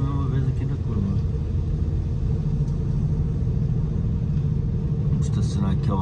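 A car engine idles and rumbles steadily while the car parks beside a car transporter truck, a constant low drone with faint background noise.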